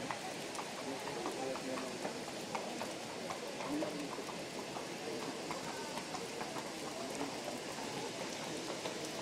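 Steady rain hisses across the whole stretch at a horse race, with a soft patter and faint hoof-like clopping in the background.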